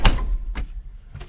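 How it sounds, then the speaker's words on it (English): A cab door on a John Deere 230 series tractor slams shut three times in quick succession, each one a sharp, close knock with a short rattle after it. "Gotta get these doors fixed in these 230 series tractors this winter."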